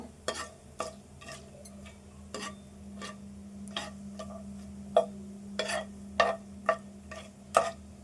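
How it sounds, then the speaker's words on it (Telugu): Whole spices frying in a pan for aloo pulao, a low steady sizzle punctuated by about a dozen sharp scraping and stirring clicks spaced through the clip, with no talk. "ఇది కొద్దిసేపు వేపుకుందాము"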